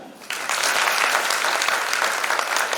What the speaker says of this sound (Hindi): बजाइए ताली।